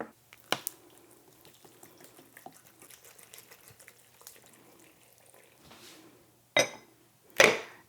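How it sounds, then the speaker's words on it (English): Cheap white vinegar poured over lemons in a jar: a faint trickle under quiet room sound, ending in two short, louder splashing bursts near the end. "all we do is top it up with cheap white vinegar"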